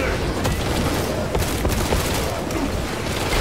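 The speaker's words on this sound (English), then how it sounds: "Grenades at his feet." Grenade explosions and gunfire in the Space Marine 2 video game, a dense, loud barrage of blasts and shots with faint voices mixed in.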